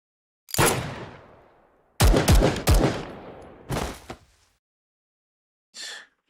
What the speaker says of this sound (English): The sudden sound of gunfire interrupted Igla's deep thoughts once again.